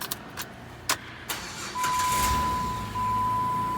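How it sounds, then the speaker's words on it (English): A Jeep truck with a factory key fob starts up: a few clicks and clunks, then the engine cranks and catches into a steady, fairly loud idle with a faint whine, close by and with no talking. "You can start the truck like you're supposed to"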